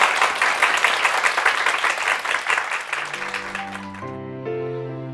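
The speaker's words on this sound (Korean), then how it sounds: "두 분께 축복의 박수 부탁드립니다." A church congregation applauding together, brisk close clapping that fades after about three seconds as sustained organ or keyboard chords rise and carry on alone.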